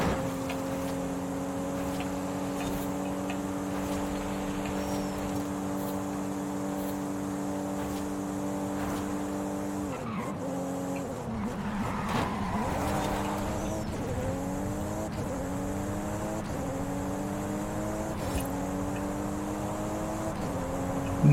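Steady engine drone from a car driven in Forza Horizon 5, holding a constant tone, then dipping and revving up again through gear changes, with no talk over it.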